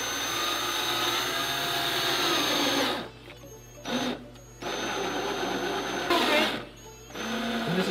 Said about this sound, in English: Now we're gonna use a universal bit to drill quarter inch hole right here for the clips.